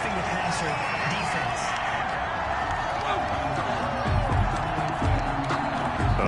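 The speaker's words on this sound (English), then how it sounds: "this crowd does not like that call" A video game American football crowd at a Rams versus Jaguars matchup reacts to a roughing-the-passer penalty with a steady, dense roar that swells louder toward the end, with voices woven through it.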